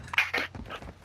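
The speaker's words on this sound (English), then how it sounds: "My dogs won't fucking stop barking either" Dogs bark indoors in a few short, loud bursts packed into about a second, with a low steady hum underneath.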